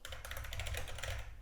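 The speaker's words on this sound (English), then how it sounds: "I'm typing space even though I don't have to." Rapid, evenly spaced keystrokes on a computer keyboard clatter close up and steadily with no voices, ending with a brief pause and then a final burst of keys.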